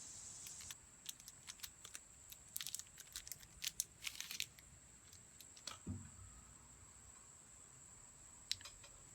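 An Arturo Fuente Gran Reserva Exquisito cigar is unwrapped with crisp, close crinkling and sharp tearing clicks from its wrapping, in irregular bursts and then a few scattered rustles, over a faint background hum.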